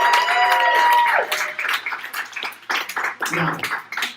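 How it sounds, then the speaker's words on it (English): An audience applauds the contestants at a song contest grand finale, clapping loudly under a host's ongoing talk before the applause breaks into scattered claps. "let's give all the contestants a massive round of applause"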